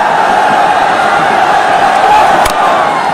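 A mixed crowd of Bangladesh and Sri Lanka supporters cheers at a cricket match, a dense, continuous roar of many voices filling the stadium, with a brief sharp clap or bang near the end.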